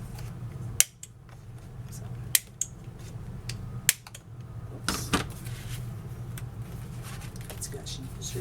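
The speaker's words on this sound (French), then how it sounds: "Ça, je vais arrondir le coin." Scissors cut paper to round a corner for a scrapbooking page, giving a handful of sharp, separate snips a second or so apart against quiet room noise with a soft voice nearby.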